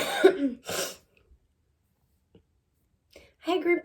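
Two quick, close coughs from someone with allergies, followed by near silence with faint clicks and a final throaty cough or throat clearing.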